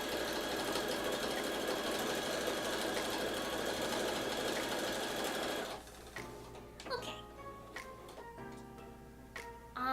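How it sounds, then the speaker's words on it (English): A home sewing machine runs steadily and loudly for several seconds, then stops, leaving scattered clicks, small knocks and a faint voice in the quiet that follows. "I heard a sound coming out of the sewing machine"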